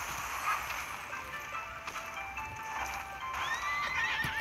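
A horse in the Wildshade racing video game gallops with rhythmic clip-clop hoofbeats and gives a couple of neighs, the game sound steady and fairly close.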